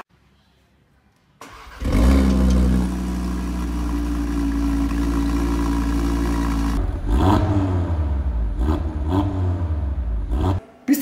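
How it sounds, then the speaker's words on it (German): An Audi RS3 8V facelift with a five-cylinder engine fires up after a quiet moment, settles into a loud, steady idle, then gives a few sharp revs that rise and fall, heard up close with no talk. "So, Auto gestartet"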